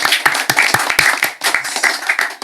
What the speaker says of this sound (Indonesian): Beri tepuk tangan untuk Fauzan.